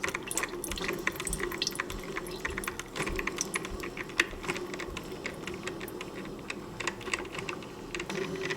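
A Mr. Coffee Mini Brew 5-cup coffee maker brewing with its lid open, a faint, busy patter of dripping and trickling water with small irregular ticks, steady throughout and heard up close.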